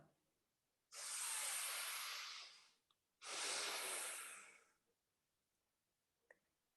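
A group doing breathwork practice takes two long, loud, airy breaths, each lasting about two seconds with a pause between, followed by faint clicks in an otherwise quiet room.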